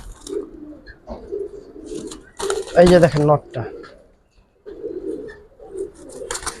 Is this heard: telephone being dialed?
no